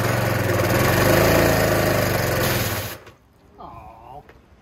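Small pressure washer engine running with choke applied, a loud rough, pulsing drone that cuts out abruptly partway through, leaving a quiet tail with a faint voice.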